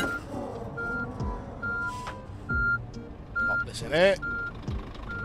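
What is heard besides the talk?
truck reversing beeps in On The Road Truck Simulator video game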